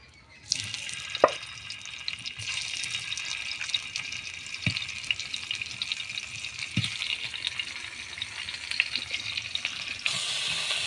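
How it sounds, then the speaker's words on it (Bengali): Fish frying on a hot tawa, a steady broadband sizzle that runs throughout with a few soft clicks and taps of utensils, close and fairly quiet, no voices. "মাছ ভাজা হয়ে গেছে"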